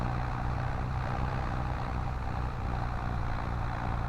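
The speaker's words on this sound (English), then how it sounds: "Yeah, hear how this tractor sounds?" A tractor idling in Farming Simulator 25, a steady low rumbling engine note with a broad hiss over it, continuous and fairly quiet with no voices.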